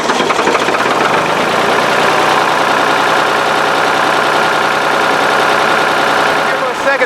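An engine left unused for a year idles steadily as it warms up, a continuous loud rumbling drone with a slight knock that holds even throughout with no breaks.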